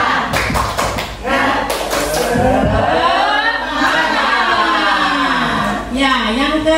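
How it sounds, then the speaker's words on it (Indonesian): A group performs a rhythmic spirit clap, a quick run of sharp claps at the start, then voices chanting and singing in unison over the room. "Baik, kita tepuk semangat lagi."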